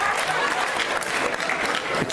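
Loud, dense audience cheering and applause at a live debate between Lennox and Shermer on consciousness, a steady wash of clapping and crowd noise throughout with voices mixed in.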